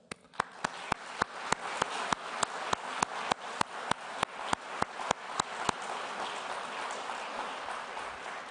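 At a conference closing, slow rhythmic clapping of about twenty evenly spaced sharp claps rings out over a faint room wash, fading into a softer scatter of applause at the end.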